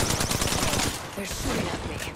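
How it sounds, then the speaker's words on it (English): Close, rapid gunfire in an Apex Legends match, a loud rattling burst of automatic shots that eases into scattered fainter shots. "They're shooting at me."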